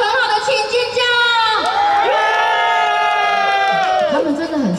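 A crowd at an outdoor night-market dance show during a Taoyuan temple festival screams and cheers, a loud sustained roar of high voices that swells and dips without a break.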